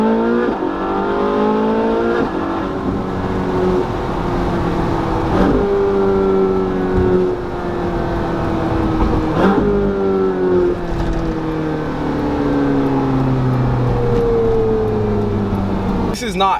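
A Ferrari 458 Spider with an aftermarket exhaust revs loudly through repeated climbing gear pulls, its engine note rising and dropping at each shift, heard from inside the car with someone talking over the engine.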